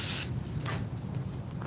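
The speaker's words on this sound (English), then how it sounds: "So just spraying up a good amount of carb cleaner on this and just wiping them down." Carb cleaner from an aerosol can shoots out in one short, loud burst of spray, then cuts off, leaving a low background rumble during work on a 1998–2011 Ford Crown Victoria engine.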